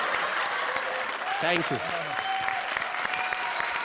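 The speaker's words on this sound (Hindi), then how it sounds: "Thank you very जोरदार तालियां हमारी इस जोड़ी के लिए" Steady audience applause fills a comedy show stage after a comedy duo's act, with a host speaking over the clapping throughout.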